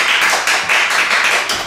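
A few office colleagues clapping together for a coworker, a short burst of close, sharp handclaps in quick uneven rhythm.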